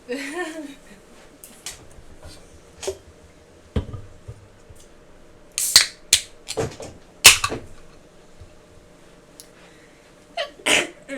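One person sneezes sharply, then several quick, loud bursts of sneezing and clicks follow in a quiet room during a livestream meal, with faint voices murmuring in between.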